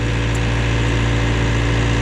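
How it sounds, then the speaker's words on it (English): A John Deere loader idles steadily while warming up on a cold day, a loud, constant, low diesel rumble with no change in pace and no voices. "Just letting the loader warm up before I go and put hay out."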